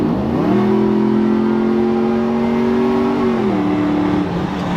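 A Ford F150 pickup engine hums steadily and loud on a highway, its pitch climbing slowly as it accelerates, then easing back near the end, with constant road noise throughout.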